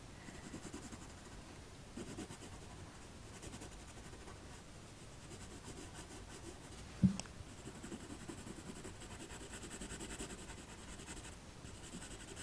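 A single coloured pencil shading a patterned cloth texture on paper gives a continuous soft scratchy rubbing in steady strokes, quiet and close, with one brief knock partway through.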